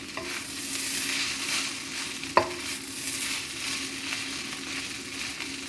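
Shrimp noodles with dark soy sauce stir-fry in a hot pan, giving a continuous close sizzle with stirring, and a single sharp metallic clank midway.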